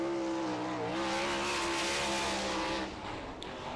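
A winged sprint car, number 79, laps the Wilmot dirt track during qualifying. Its engine howls loud and steady, the pitch dipping briefly before it fades slightly near the end.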